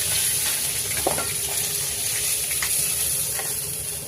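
Rohu fish heads fry in hot oil in a pan, a steady loud sizzle with occasional crackling bursts.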